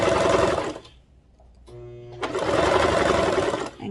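A sewing machine stitches the seam of a tank top in two close, steady runs of rapid whirring, broken by a brief pause with a faint tone before the stitching resumes.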